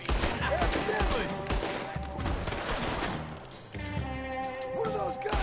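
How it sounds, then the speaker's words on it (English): Gunfire rings out in the Red Dead Redemption video game: dense volleys of rapid shots, thumps and booms keep up over game music and ambience, loud and continuous throughout. "What are those guns up there?"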